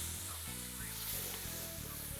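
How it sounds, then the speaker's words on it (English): Canned diced tomatoes and corn being stirred in a hot pan for stuffed bell peppers give a loud, continuous sizzle over a low steady hum. "We're gonna mix that up a little bit."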